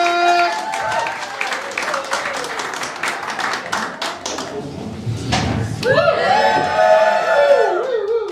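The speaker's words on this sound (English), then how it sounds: "Throw the applause up again, take it up again, for Jake Baker!" A comedy club audience applauds and cheers for comedian Jake Baker in Edinburgh, steady clapping and crowd noise with a voice speaking loudly over it, then music-like tones rising near the end.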